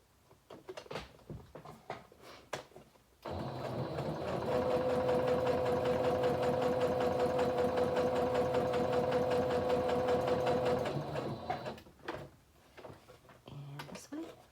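A sewing machine runs steadily for about seven seconds, stitching around the edge of a paper envelope, loud and close, with brief handling noises before and after.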